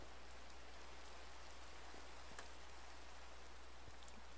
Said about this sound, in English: The rain seems appropriate for this.